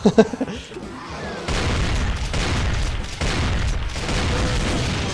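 Dense, booming gunfire in Brutal Doom rolls on almost without a break after a few sharp opening shots, loud and close with no talking over it.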